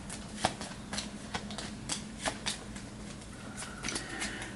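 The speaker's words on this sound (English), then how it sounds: "I'm doing the shuffle off camera" A deck of board game cards is shuffled by hand in a series of quick, soft riffling bursts and taps, close and quiet, with no talking.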